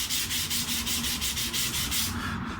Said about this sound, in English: I've got a folded toilet roll with some currently 240 grit sandpaper.